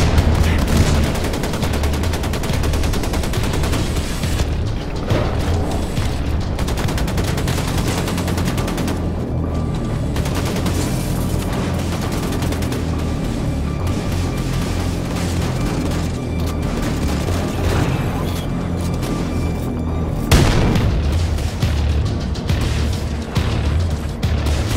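Wolfenstein 2 video game combat, dense and continuous rapid gunfire with booming explosions, loud throughout with a heavier blast burst near the end.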